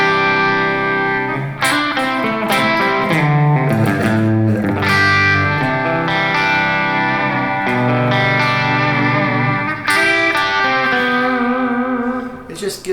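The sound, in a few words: electric guitar through boost and delay pedal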